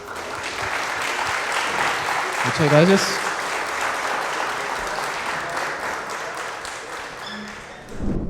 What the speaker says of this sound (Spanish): Un aplauso a Robert.